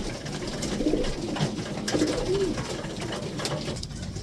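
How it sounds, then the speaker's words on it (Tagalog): Pigeons at feeding time cooing nearby in several short, soft throaty calls, set against faint outdoor background noise. "Yun mga kalapatids."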